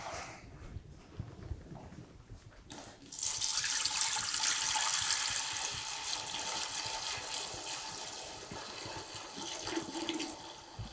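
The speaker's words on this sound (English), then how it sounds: "we're going to add the cider to the pot." Cider poured into a pot, a steady splashing liquid stream starting suddenly after a quiet, shuffling start and continuing for several seconds at moderate level, fairly close with no talk.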